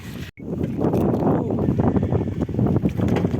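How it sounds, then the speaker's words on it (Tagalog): Wind buffets the microphone in loud, rumbling gusts that continue throughout, briefly cutting out near the start. "medyo malakas ang hangin ngayon"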